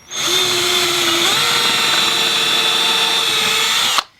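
A drill press bores an 11/64 hole in wood, a steady high whine running about four seconds with a slight pitch shift partway through before cutting off abruptly.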